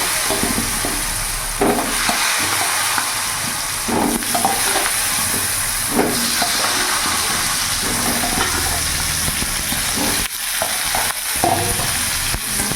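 Boiled potatoes frying in hot oil with salt and turmeric on a medium gas flame, a loud continuous sizzle with repeated scraping and stirring knocks from a spoon in the pan.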